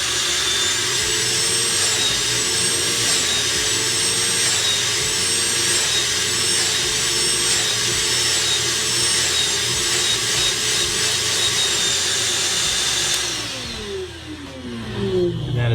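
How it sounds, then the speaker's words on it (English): A small shop vac runs loud and continuous while sucking cleaning liquid out of carpet during spot cleaning, its steady whine dropping away as the motor is switched off near the end. "use your little shop vac to now suck up that liquid"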